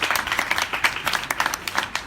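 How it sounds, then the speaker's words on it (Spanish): A lecture audience gives brief applause at a philosophy talk on sport, a room of clapping hands with individual claps standing out, moderately loud and without speech. "Un aplauso,"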